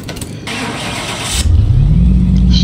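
Engine of a 1961 Jaguar E-Type cranked on the starter, which whirs briefly before the engine catches and settles into a loud, close, rumbling idle.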